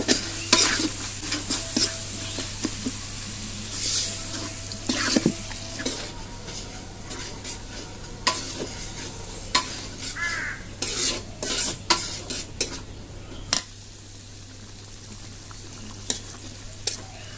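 Spice paste (masala) for chola bhuna is stir-fried in a pan with repeated scraping strokes over a steady sizzle, while crows caw intermittently in the background.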